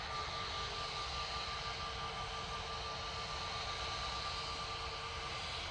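A Singapore Airlines jet crossing at Manchester Airport, heard as a steady, continuous engine roar with a faint tonal whine, holding an even loudness throughout with no talking.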